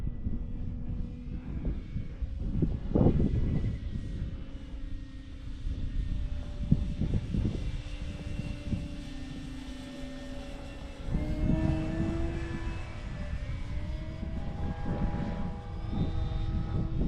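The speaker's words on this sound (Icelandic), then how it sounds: "Herflugvéli? Flugvéli?" Airplane engine drones steadily overhead at Arnarvöllur airfield, a continuous rumbling roar with a tonal hum that swells slightly near the start and again toward the end, heard in wind without talk.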